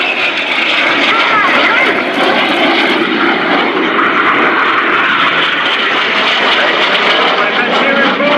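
RAF Red Arrows jets roar through a flying display at RIAT 2018, a loud and continuous engine rush with no breaks and voices faintly audible beneath it.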